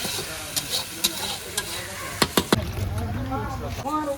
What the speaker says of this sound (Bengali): আর সাথে বেশ শুকনো লঙ্কা ফোড়ন দিয়ে বেশ সুন্দর করে আলু ভাজাটা করছে।